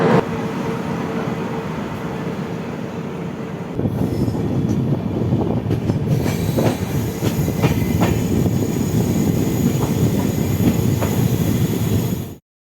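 A train rumbles steadily close by with rattling wheels and metallic squeals, growing louder partway through as the cars roll on and slow, arriving at a junction station platform.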